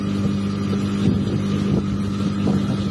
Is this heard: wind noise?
yes